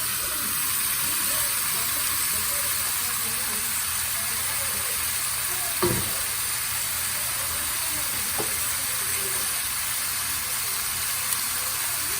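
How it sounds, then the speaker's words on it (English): Small red, yellow and orange sweet peppers and half an onion fry in a pan with a steady, close sizzle and hiss, broken by a couple of faint clinks. "Now I'm gonna put my vegetables in. I cut some small sweet peppers, red, yellow, and orange, and a half of an onion."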